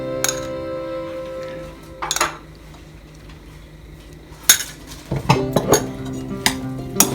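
A utensil mixing bruschetta tomato mixture with olive oil in a bowl, giving a few scattered clinks and scrapes against the dish, louder and busier near the end, with no talk.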